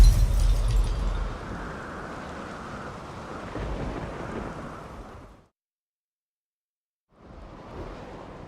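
A thunderstorm in The Witcher 3 video game, with a heavy rumble and dense rain-like roar over several seconds, then abrupt silence, then a quieter resumption of the noise.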